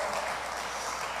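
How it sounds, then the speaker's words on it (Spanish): A church congregation claps their hands during a service, giving a brief, steady burst of dense applause with no voices over it. "Denle fuerte las palmas al Señor."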